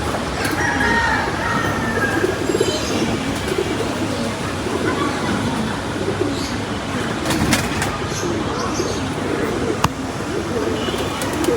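Domestic pigeons coo softly in a loft, with low, repeated murmuring calls under steady background noise and occasional sharp clicks and rustles nearby.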